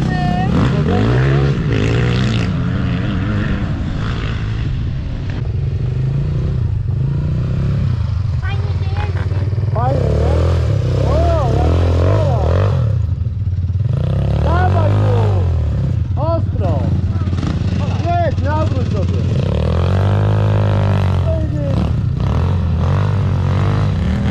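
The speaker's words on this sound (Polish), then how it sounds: "A mamy Olę nauczyć motocyklem?" Motorcycle running and revving steadily and loudly close by, engine pitch rising and falling throughout while people talk over it.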